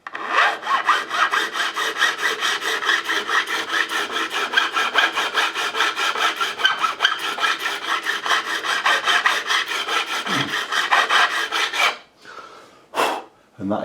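A metal file scrapes rhythmically back and forth across frets on a Fender '62 Custom Telecaster reissue during a refret, a close, steady rasping stroke pattern for about twelve seconds, followed by a pause and a couple of brief rubs.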